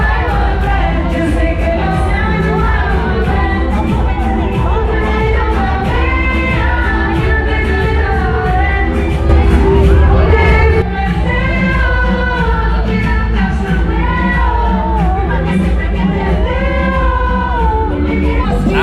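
Large crowd at a bloco during Rio Carnaval 2023, a dense, loud mass of voices shouting and singing over thumping music from a sound truck, continuous throughout with a brief surge near the middle.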